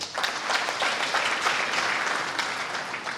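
An audience at a scientific excellence awards ceremony claps continuously, a dense, fairly loud crackle of many hands with no break and no talking.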